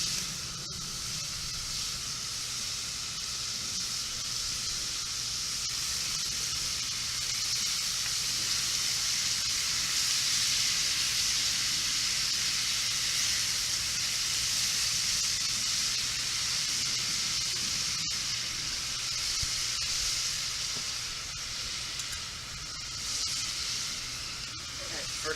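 Scallops frying in a hot pan, giving a steady bright sizzle and hiss that runs unbroken and fairly close throughout, with no clear talk over it.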